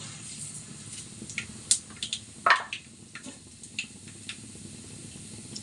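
Cumin and mustard seeds crackle and sizzle in hot oil for egg rice, giving a steady frying hiss with a few sharp pops and utensil clicks scattered through it, fairly quiet and with no voices.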